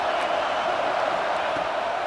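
A football stadium crowd at an NC State versus Stanford game makes a continuous, even roar that holds steady throughout without distinct peaks.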